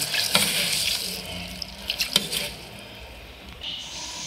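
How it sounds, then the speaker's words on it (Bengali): Lentils (dal) being rinsed by hand in water, with splashing, swishing and running tap water close by, uneven bursts of sloshing over a steady wet wash. "এবার ডালটা জল দিয়ে ভালোভাবে ধুয়ে নেব।"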